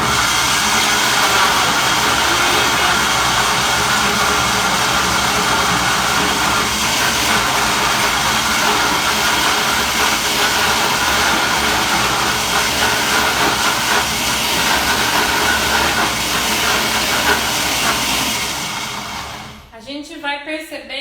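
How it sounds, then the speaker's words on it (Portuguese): A blender whirs loudly and steadily as it blends yam into a cream for pink lentil pancakes, a continuous grinding roar that runs for about nineteen seconds before cutting off abruptly near the end. "E vou ligar o liquidificador aqui pra gente fazer nosso creme."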